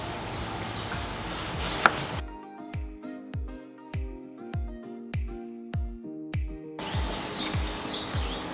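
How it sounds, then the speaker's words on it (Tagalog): Banana trunk being chopped into inch-long pieces, about a dozen sharp, evenly spaced blade strikes with a wet thud, close and clear against faint birdsong. "I-chop din natin ang banana stalk or banana trunk"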